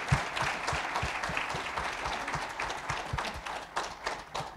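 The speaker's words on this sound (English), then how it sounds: "Let's give them a round of applause to our panelists." An audience applauds panelists at the close of a career-advice panel discussion, a dense, sustained burst of many people clapping with some louder nearby claps standing out over the crowd.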